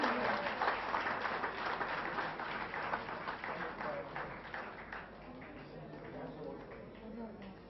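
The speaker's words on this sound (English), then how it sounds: "Come on, keep the clap, guys." Audience applause at a chess tournament's valedictory program, steady mixed clapping throughout that thins slightly toward the end, with voices talking over it.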